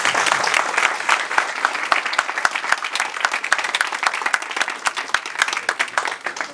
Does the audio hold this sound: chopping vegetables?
no